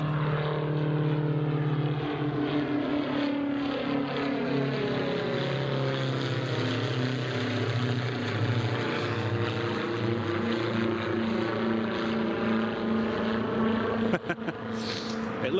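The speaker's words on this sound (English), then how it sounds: "It looks like a bottlenose DA62 or whatever it is." A Diamond DA62 twin-propeller aircraft passes overhead near an airport, a sustained droning engine hum with sweeping, shifting tones as it approaches and recedes, fairly distant and even in level.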